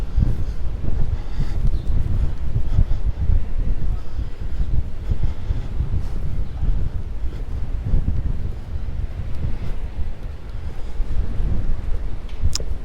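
Strong wind buffets the microphone at a beach promenade in Palmanova, Mallorca, a steady loud low roar with gusty surges throughout and no voices.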